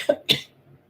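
Two short coughs from one person, loud and close, the second harsher than the first, then quiet room noise.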